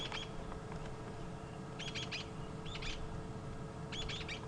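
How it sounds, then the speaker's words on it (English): Small clusters of high, squeaky brown-headed parrot calls repeat every second or so, moderately distant, over a steady low outdoor hum on a sunset safari drive. "those squeaks, those are the brown-headed parrots"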